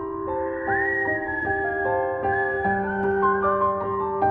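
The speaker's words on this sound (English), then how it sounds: "He suddenly heard the sound of whistling from the trees to his right" Eerie whistling drifts from trees in a dark forest at night: a sustained, wavering whistle with sliding pitch changes, clear and steady over a faint low background hum.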